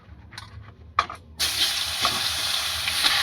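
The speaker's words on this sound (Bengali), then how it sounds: "বেগুনটা হালকাভাবে ভেজে নেব।" Eggplant goes into hot mustard oil with turmeric: after a few quiet clinks and taps, a loud sizzle bursts in and settles into a steady close frying hiss.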